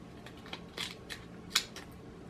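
Scissors snip through a curved section of a plastic Dr Pepper bottle while a fly is being tied, a handful of quiet, crisp cuts spaced unevenly in a hushed room.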